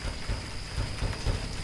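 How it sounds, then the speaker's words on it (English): Steady, dense rain in WolfQuest pours down with a broad hiss, a low rumble underneath and scattered drops pattering throughout. "And it's raining."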